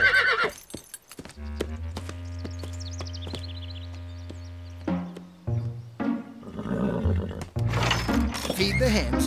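An old horse whinnies clearly amid background voices and scattered noises in a Pippi Longstocking episode, with a long drawn-out neigh dominating the middle of the clip.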